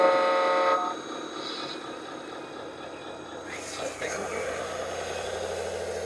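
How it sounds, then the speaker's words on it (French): Horns from the sound systems of RC model crawlers at an outdoor hobby meet blare at the start, a loud sustained honk that cuts off after about a second, followed by quieter electronic toots and background chatter. "Les klaxons, vrai, on se croirait sur le périphérique à Paris."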